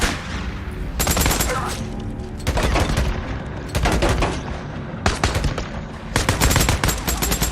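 Automatic gunfire rattles in the video game Days Gone in loud, rapid bursts separated by short gaps, heavy and close, with a few booming shots mixed in.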